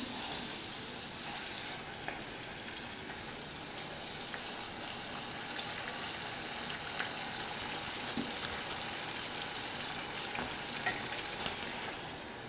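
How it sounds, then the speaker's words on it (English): Steady, dense sizzling of donuts frying in hot oil over medium heat, a continuous close crackle with no talking. "just fry these donuts until they are golden brown on about medium heat."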